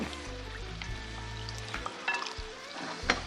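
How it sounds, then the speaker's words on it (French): Cooked beans mashed in a hot pan for Veracruz-style refried beans give a steady close sizzle and frying hiss, with scraping stirs and a few faint clinks from the pan. "on peut commencer à écraser nos haricots"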